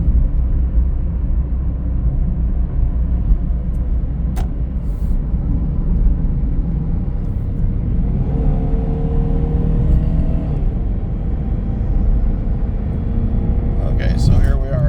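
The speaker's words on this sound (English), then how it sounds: "let's get the car up to freeway speed." A car accelerates toward freeway speed, a loud, steady low engine and road rumble from inside the cabin that holds roughly even throughout, with a faint rising tone partway through.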